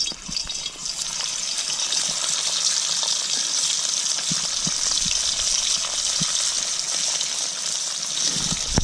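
Salt pork frying in vegetable oil inside a cast iron "ERIE" Scotch bowl over a wood fire, a loud, continuous hiss and sizzle with occasional crackles.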